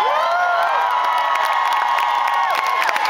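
A concert crowd in Amsterdam cheers, screams and applauds loudly and continuously, with high-pitched shouts rising above the sustained roar.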